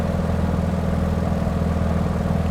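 Engine drone of a Beechcraft 17 Staggerwing biplane in the Microsoft Flight Simulator 2020 game holds a steady, loud, low rumble throughout cruise flight, with a constant hum and no talking.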